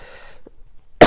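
A single sharp cough bursts out near the end after quiet moments and a faint soft noise, close and loud, from someone unboxing a cross-stitch kit.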